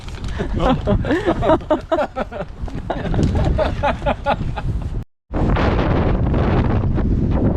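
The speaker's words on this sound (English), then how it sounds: "There's a whole lot of bad words I want to say about this wind right now" Strong wind buffets the microphone during a bike ride on the Wood River Trail, a loud roaring rush that continues throughout, with a person talking over it at first and a brief dropout partway through.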